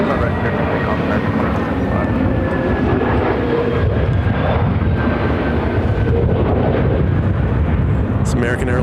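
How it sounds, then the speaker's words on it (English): An American Airlines Airbus A321neo on its approach into Phoenix airport gives a sustained loud jet roar with a faint steady engine whine running through it, continuous and close for the whole stretch. "It's American Airlines Flight 935 coming in from Miami on this Airbus A321neo."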